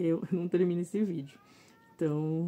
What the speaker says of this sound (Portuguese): ele fica miando assim